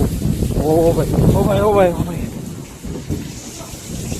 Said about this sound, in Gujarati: વરસાદ તો જો યાર